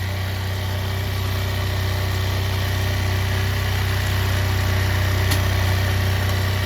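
A motorcycle engine idles steadily at close range while the carburettor's idle screw is adjusted by ear for better mileage, a continuous even drone with no talk over it.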